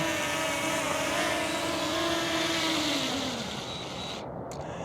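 A DJI Mini 4K drone hovers close by with a steady buzzing propeller whine, then the pitch sags as it sets down into a hand and the motors cut out near the end, with no voices.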